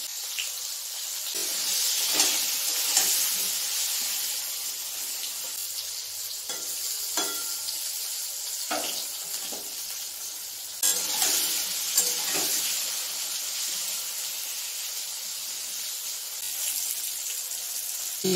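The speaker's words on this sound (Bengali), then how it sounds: "একটু ভালো করে নেড়ে নিই ঝিঙেগুলো।" Thick-cut ridge gourd pieces stir-fried in hot oil, a continuous sizzle broken by repeated scraping stirs of a utensil, close and fairly loud, with brief watery splashes at times and no talk.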